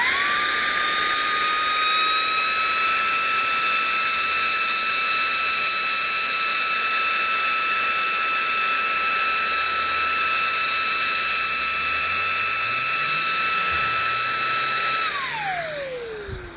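A Makita leaf blower fitted with its original nozzle runs at a steady high whine with strong harmonic tones and a broad airy rush, loud and close, then winds down at the end.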